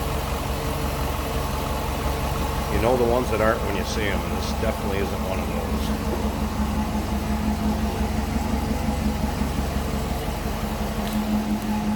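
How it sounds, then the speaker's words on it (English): A 2004 Chevrolet Corvette's LS1 V8 engine idles steadily with a low, smooth rumble while someone talks over it. "There's that LS1. Sounds like a Swiss watch under there. Very, very smooth."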